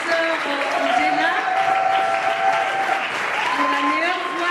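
A church gospel-music audience applauds steadily and loudly for a nominated female singer, a dense continuous clapping with crowd noise and a voice and tonal music running underneath.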